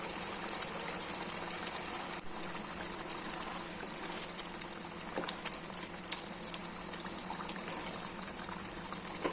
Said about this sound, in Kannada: ಇವಾಗ ನೋಡಿ ಚೆನ್ನಾಗಿ ಬಾಯ್ಲ್ ಆಗ್ತಾ ಇದೆ.